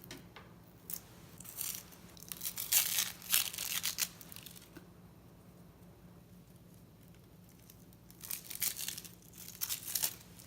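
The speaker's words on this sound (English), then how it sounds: "and then peel the skin off." Papery onion skin being peeled off by hand, giving soft crinkling and tearing bursts in two clusters with a quiet pause between, close up and fairly faint.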